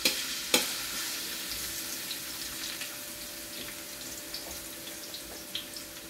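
Garlic hits hot oil in a pan for pancit bihon, giving a steady close sizzle after an opening clatter, with a few light scrapes and no talking.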